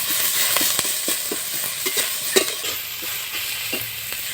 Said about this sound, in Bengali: এবারে পেঁয়াজটা ভাজা হয়ে গেছে।